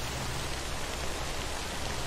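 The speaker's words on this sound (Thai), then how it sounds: "คือยังไงฝนก็ไม่หยุดอ่ะ" Steady rain in the horror video game Dead by Daylight, a dense continuous hiss that stays even and fairly loud throughout, with no voices over it.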